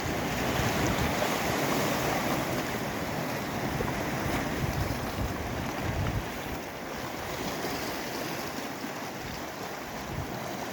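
Waves at high tide wash in steadily at a fishing spot, a dense, continuous roar of surf mixed with wind rumble against the microphone, with no talking.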